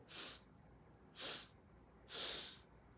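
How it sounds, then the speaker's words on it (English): Three short, breathy sniffs through the nose, evenly spaced and close, with quiet pauses between them and no talking. "So take these sips through the nose gently, but feel them."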